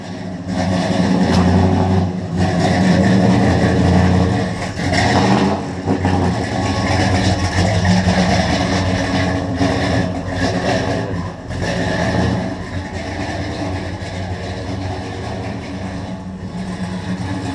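A car engine idling and revving at a downtown Sunday car show with Shelby Cobras and Camaros, a loud, close, throaty rumble with deep surges that hold steady throughout.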